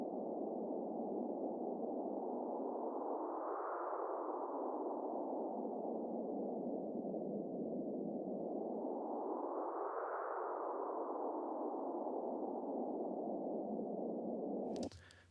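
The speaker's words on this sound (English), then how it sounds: "so if I automate that, basically, I have a like supernatural wind sound" Synthesized supernatural wind made from band-pass filtered noise, a steady hissing roar whose pitch slowly rises and falls in two broad sweeping swells, continuous and alone until it cuts off at the end.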